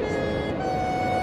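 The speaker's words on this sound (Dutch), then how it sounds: "Nog een toeter." A sustained train horn tone sounds over a steady rumbling engine in Train Simulator 2014, continuous and fairly loud throughout.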